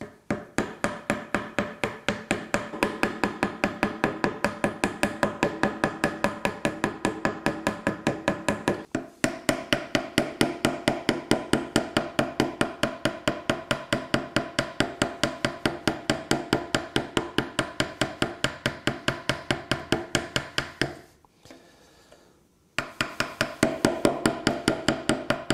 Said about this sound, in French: j'ai choisi de faire une décoration en gravant un motif de type africain, tout simplement avec une petite gouge